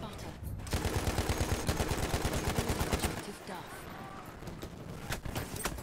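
A Madsen machine gun in Battlefield 1 fires dense rapid bursts for about three seconds, followed by sparser scattered shots and battlefield noise, loud and close.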